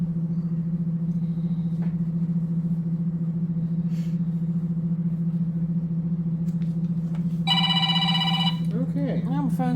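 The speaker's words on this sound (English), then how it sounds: "my phone's ringing. That's loud." A mobile phone rings loudly and briefly near the end, a bright electronic trill over a constant low hum, followed by a rising tonal sweep; no other activity stands out.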